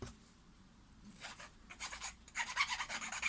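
A small file rasps against a carved wooden fishing lure, quiet scraping strokes that grow louder and quicker toward the end, heard alone up close.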